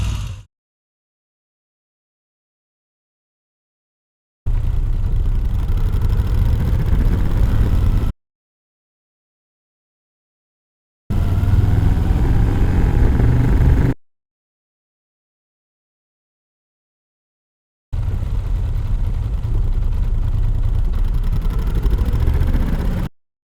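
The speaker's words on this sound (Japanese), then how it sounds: "この状態で2速固定、アイドリング状態から40キロまでの加速を比較してみます" Three separate bursts of a Moto Guzzi motorcycle engine revving hard, accelerating from idle in second gear to 40 km/h, each a few seconds long with silent gaps between, loud and close.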